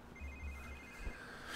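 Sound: phone ringing in the video game The Sims 3

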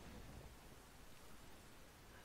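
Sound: rain starting to fall in Sea of Thieves video game

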